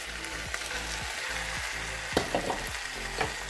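Chicken gizzards for a Dominican-style guisado frying in a pan, a steady close sizzle broken by a few stirring scrapes and small pops, with no talking.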